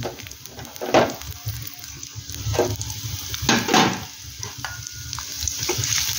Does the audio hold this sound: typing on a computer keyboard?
no